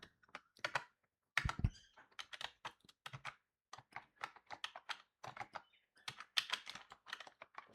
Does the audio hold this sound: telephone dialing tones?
no